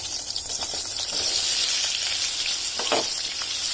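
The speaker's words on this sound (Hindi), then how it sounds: "और इसको मैं हल्का पिंक होने तक भूनूंगी।" Chopped onions frying in a pan for paneer butter masala, giving a steady, close sizzle with scattered crackles and pops and no talking.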